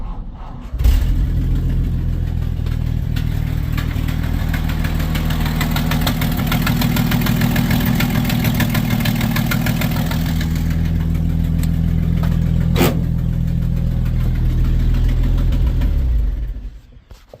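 Engine of a 70-year-old dump truck running steadily, a loud, close, continuous low idle with a knocking rumble that holds for about fifteen seconds before cutting off.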